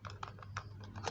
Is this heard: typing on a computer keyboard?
yes